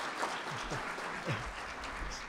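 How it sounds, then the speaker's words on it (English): A room applauds town board members at a lifetime service and volunteers-of-the-year event, with steady, moderate clapping throughout the short stretch and a faint voice briefly audible underneath. "So if y'all give them a round of applause."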